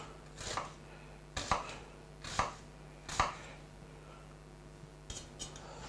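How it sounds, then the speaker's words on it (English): Knife chopping an onion into small pieces on a board, sharp quiet thuds in short bursts of two or three, close and alone with pauses between. "So let's cut the onion. Small pieces."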